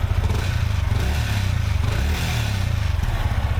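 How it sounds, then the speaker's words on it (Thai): Close by, a 2022 Yamaha XSR155 motorcycle engine is blipped a few times, its pitch rising and falling over a rough, clattering idle. "อ่ะลองเบิ้ลกันสักนิดนึง"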